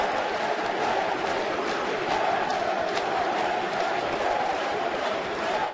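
A large crowd at a party congress keeps up steady applause and chanting of slogans, a dense, continuous roar of clapping and voices with no pauses.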